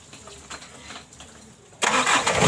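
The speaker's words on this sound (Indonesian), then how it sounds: "kita hidupin lagi mesinnya" A car engine, mid-way through a radiator flush, is started after a couple of seconds of quiet background hum. Its ignition catches with a sudden loud roar and it settles straight into a steady running note, close by.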